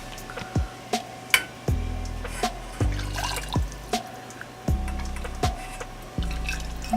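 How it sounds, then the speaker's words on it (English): Beef broth ladled from a big pot for Thai boat noodles, with a run of spaced liquid pours and drips splashing back into the pot, close and clear with no talk. "We're gonna get the broth from this big pot here."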